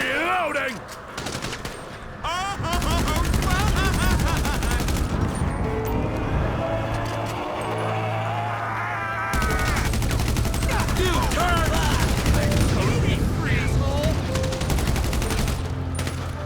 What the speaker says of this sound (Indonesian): Tembakin dulu pak.